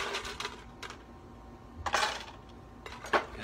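Ice dropped into a cocktail glass for a bitters-based drink: a few sparse, faint clinks and rattles spaced across a few seconds, with one brighter clatter near the end.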